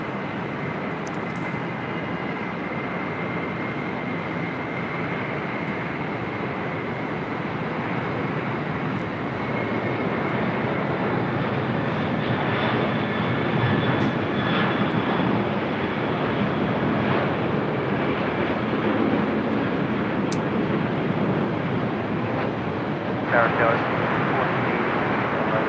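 An MD-11 jet airliner arriving at LAX on a south side approach, a continuous rushing engine roar that grows louder toward the middle and stays steady, with talk and outdoor wind noise mixed in.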